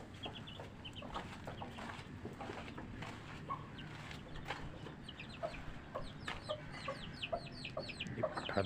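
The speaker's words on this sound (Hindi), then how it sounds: "ये पट्ठा दाना खा रहा है।" A young rooster pecks at grain and gives soft, repeated clucks nearby, with small scratching and pecking sounds and other birds chirping faintly in the background.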